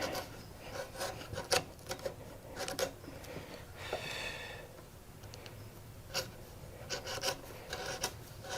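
A hand tool shaves wood to trim a post joint tenon, giving close, rhythmic rasping strokes of varying length with short pauses between passes.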